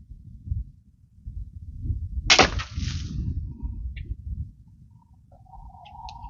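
A Barnett Demon Tri-strike pistol crossbow fires a single shot up close, a sharp loud snap and twang that rings briefly over low background rumble, followed by faint clicks.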